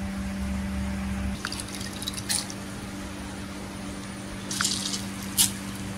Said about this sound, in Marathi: असं बटाट्यातलं पाणी काढून घ्यायचं।